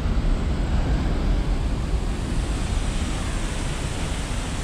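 Loud, steady rushing water at Pepsi Pools in Saasveld, a broad continuous roar of flowing river water filling the scene close by, with no pauses and no voices.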